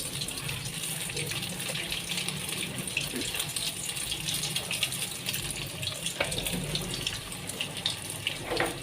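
Chicken bread pockets deep-fry in hot oil in a wok, a continuous close, rushing sizzle with small crackles and occasional clinks, and no voices.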